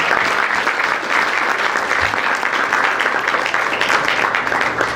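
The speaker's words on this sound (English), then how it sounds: "let's give these guys a round of applause" Sustained applause from a large crowd at a hall of fame induction ceremony, dense and steady throughout at a loud, even level with no speech over it.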